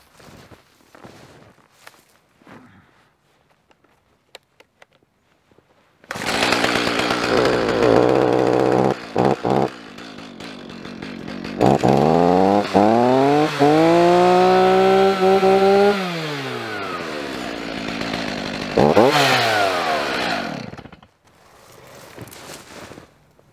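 A chainsaw cutting trees starts and runs loudly, its engine revving up and down as it cuts, with brief drops in pitch and quieter rustling before and after.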